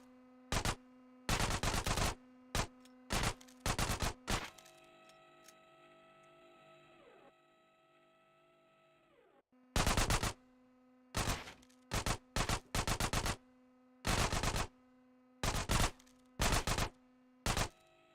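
Micro SMG gunfire in GTA San Andreas comes as repeated short, sharp automatic bursts separated by pauses, with a quieter mechanical hum in one gap midway.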